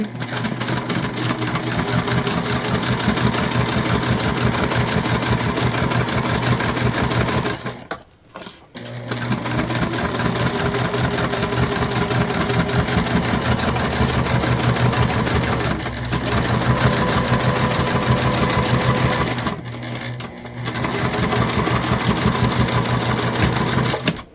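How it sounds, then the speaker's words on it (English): A sewing machine topstitches a bag, running in long steady whirring bursts with two short pauses where the needle stops, close and loud with no talk. "we're going to go ahead and top stitch"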